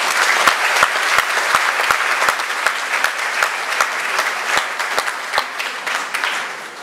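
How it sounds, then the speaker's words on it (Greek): A crowd at a book presentation claps steadily for several seconds in memory of someone, a dense even applause with sharp individual claps standing out, fading slightly at the end. "Στη μνήμη του, ένα χειροκρότημα."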